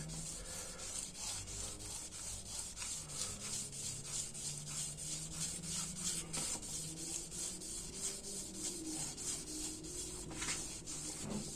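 Fine 500-grit sandpaper rubs steadily on a 4G63T crankshaft journal. A continuous, close, soft scratchy rasp pulses with quick back-and-forth strokes, with no voices.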